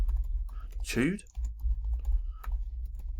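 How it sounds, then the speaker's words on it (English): Typing on a computer keyboard, a quick run of light key clicks heard close, with a short burst of speech partway through and a steady low hum underneath. "so let's type that down"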